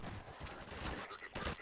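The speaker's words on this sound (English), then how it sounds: "Just listen to how a Combine soldier's gunshots change as you drive towards them." Combine soldier gunfire in the video game Half-Life 2, a burst of rapid shots blending into one another over a short stretch, fairly loud but slightly muffled and textured like distant combat.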